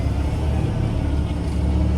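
Semi tractor engine idling and creeping forward as it pulls up in front of a trailer, a steady close low rumble with a mid-range drone and no change over two seconds.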